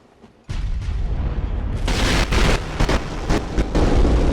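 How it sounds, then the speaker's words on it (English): A loud explosion in the video game Bloodborne, a sudden heavy boom that breaks out of near silence and then rumbles on with sharp crackling bursts for several seconds. "That is a freaking loud explosion."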